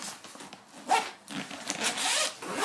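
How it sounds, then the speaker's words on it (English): A tool bag zipper is pulled open in several short rasping strokes, close and fairly loud, with brief pauses between pulls. "let's start off with the zipper. See how the zipper works on it."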